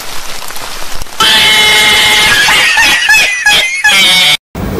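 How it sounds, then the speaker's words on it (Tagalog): Heavy rain pours down steadily at a beach, a dense hiss of drops drumming on a surface, with a brief moment of silence near the end. "Tila muna kami dito kasi malakas yung ulan."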